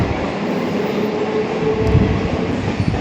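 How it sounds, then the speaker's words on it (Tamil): A train moves through a Chennai railway station with a steady rolling rumble and rail noise, close and even throughout, with a few light clacks. "பஸ் ட்ரெயின் மூவ் ஆகுது"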